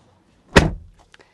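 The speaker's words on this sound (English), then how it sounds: "Closing up the door, let's look around at the cabin materials." A car door thuds shut on a 2026 Dodge Durango Hellcat, one loud close solid slam, followed by a few faint clicks and rattles in an otherwise quiet cabin.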